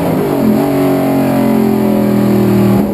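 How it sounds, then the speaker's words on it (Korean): Race cars coming around at the end of their first lap, engines droning loud and close with steady sustained pitches that slowly fall as they pass, continuous for three seconds with no talk. "모든 레이스카들이 첫 한 바퀴를 돌아오는 그 순간"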